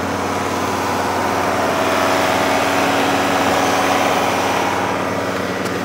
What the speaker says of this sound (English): we're revving the engine, we're not going anywhere